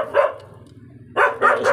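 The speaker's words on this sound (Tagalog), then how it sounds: "medyo maingay yung aso." A dog barks close by, one bark followed after a pause by two quick barks.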